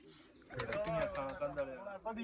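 Pigeons coo in a low warble while someone talks over them nearby, the cooing partly masked by his voice.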